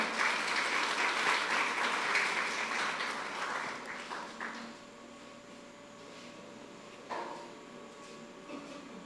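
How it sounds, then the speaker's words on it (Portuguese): A church congregation applauds: steady clapping for several seconds that gradually thins out and falls into quieter room noise with a few scattered claps. "Pode aplaudir o povo para quebrar o gelo"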